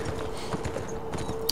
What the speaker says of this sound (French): je suis en train de faire des zigzags avec le cheval